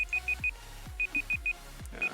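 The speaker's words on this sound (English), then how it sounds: "And that's the alarm." An alarm clock beeps in quick groups of four short, high, even tones, repeating at a steady rhythm close by over faint background noise.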